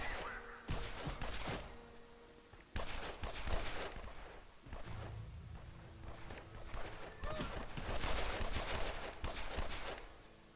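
Gunfire from the Evil Genius video game as guards fight off burglars: repeated bursts of shots in clusters, with busy overlapping clatter and steps between volleys, fairly loud throughout.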